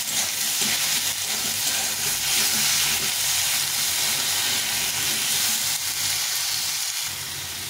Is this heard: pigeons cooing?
no